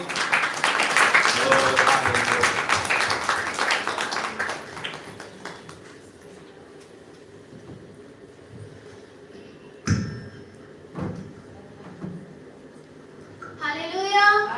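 A church congregation claps together to welcome the pastor at a Christmas service. Dense crowd applause for about five seconds, then it fades into a quieter room with a few scattered knocks and voices.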